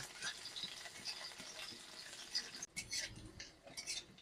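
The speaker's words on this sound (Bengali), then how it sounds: "কুচি করে রাখা রসুন দিয়ে দেব এবারে আমি সব কিছু হালকা করে নাড়াচাড়া করে নেব" Chopped garlic and onions stirred in a pan, giving soft scraping and light clinking taps of a utensil at an uneven rhythm, close and fairly quiet with no talking.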